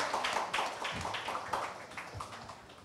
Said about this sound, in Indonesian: saya minta tepuk tangan sekali lagi untuk para pendekar kita